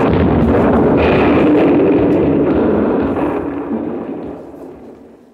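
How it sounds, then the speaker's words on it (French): A loud, deep rumbling blast that roars and slowly fades over several seconds, with no voices. "une deuxième explosion ébranla les flancs du navire"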